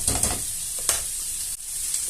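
Turkey and vegetables browning with onions in olive oil inside a Cookeo pot, a steady close sizzle with a few sharp stirring scrapes and clicks and no voices.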